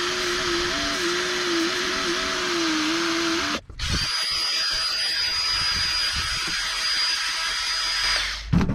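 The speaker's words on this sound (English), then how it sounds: "A 3-inch sanding disc." A drill spinning a 3-inch sanding disc whines at a steady pitch, then cuts out abruptly and gives way to a scratchy, uneven grinding as the disc sands a PVC flute at close range.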